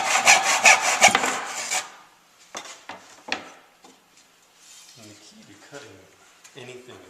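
A handsaw cuts wood with a few quick, rasping back-and-forth strokes at the start, followed by lighter scraping and handling sounds while a person talks.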